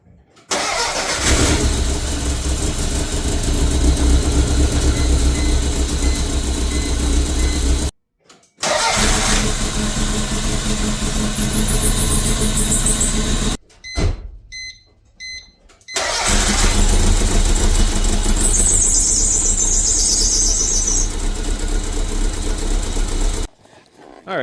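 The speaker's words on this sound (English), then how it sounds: "So let's jump into the cold start. I'll have you guys just kind of listen." A 1994 Toyota MR2 engine cranks and catches on a cold start, then settles into a steady, fairly loud idle, with brief gaps and quiet stretches between segments and no voices over it.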